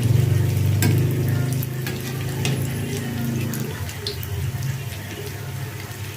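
Lumpia wrappers frying in hot oil give a steady close sizzle and bubbling, with a few stirring clatters; the sizzle thins and softens partway through as the pieces are flipped.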